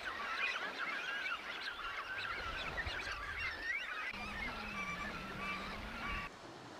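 Cormorant chicks in a nest at Qinghai Lake: a continuous chorus of reedy, honking chirps and squeals, moderately faint, with soft calls overlapping throughout.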